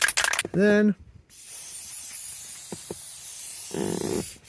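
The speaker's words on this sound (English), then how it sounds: "you just spray to the top of the headliner, it turns to glue" A steady hiss of spray adhesive from an aerosol can onto a car headliner runs for a few seconds after a brief voice, with small clicks and a louder burst near the end.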